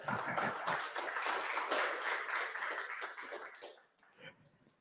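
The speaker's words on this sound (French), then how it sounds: "vous pouvez l'applaudir très fort pour son anniversaire" An audience at a DevFest talk breaks into dense, fairly loud clapping that holds steady for several seconds, then quickly thins out and stops.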